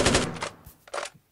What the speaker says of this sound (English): so typically when you shoot, it holds the fire like this when you hold the fire button.